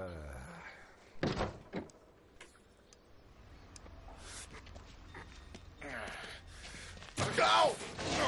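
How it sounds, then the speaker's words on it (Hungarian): A door is pushed shut with a few sharp thuds and bangs spread across the clip, close and fairly loud, while people talk between and around the knocks. "Csukd be az ajtót!"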